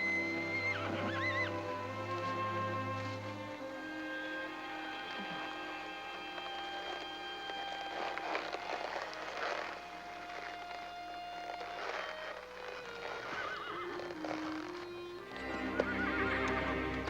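Ponies clip-clop steadily along a town street while several neigh and whinny, close and loud, with more hoofbeats continuing throughout and no one talking.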